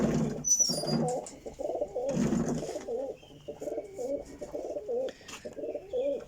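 Golden pigeons kept as flying birds coo over and over, close and clear, in soft rolling phrases with brief gaps and occasional chirps between them.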